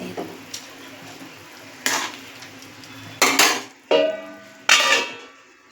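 A metal lid is set over a pan of simmering mini soya chunk and paneer curry in a home kitchen, giving several sharp clanks and rattles spaced a second or so apart. Between the clanks there is a soft background hiss.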